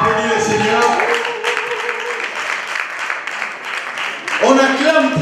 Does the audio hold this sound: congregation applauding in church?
yes